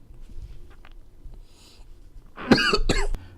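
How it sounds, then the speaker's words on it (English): A quiet stretch of soft rustling gives way to a burst of loud, close coughs, two or three harsh hacks in quick succession. "random coughing fit"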